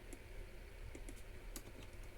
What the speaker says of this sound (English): Hope you can see what I'm typing.